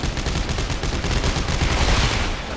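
SMG fire in the video game Dead Space 3, a dense, loud stream of rapid shots filling the whole stretch with no pause.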